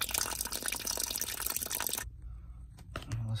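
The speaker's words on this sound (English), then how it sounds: "Let that water drain down." Water drains from a repaired copper water pipe under a house, a loud rushing gush that cuts off abruptly, followed by quieter drips and trickles.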